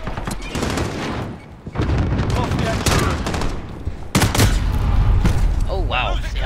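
Pistol gunfire in a video game, loud repeated shots in quick bursts mixed with other game effects and explosions, while a player talks over the action.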